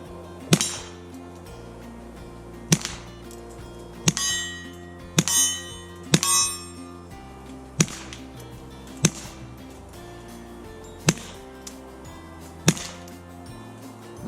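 KelTec P17 pistol firing .22 rounds at small steel targets on a range: about eight sharp, separate shots spaced a second or two apart, each with a bright metallic clang, heard against quiet outdoor background.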